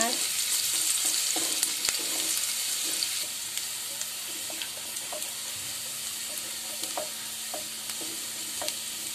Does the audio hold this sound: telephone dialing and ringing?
no